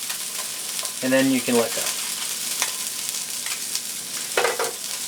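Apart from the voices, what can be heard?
fish with skin searing in a pan, pressed with metal spatula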